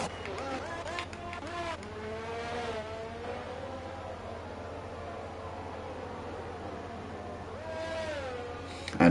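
F1 race car engines in F1 22 on the Austrian GP circuit, a continuous whining drone with rising and falling pitch as cars work through corners, heard under a commentator talking throughout.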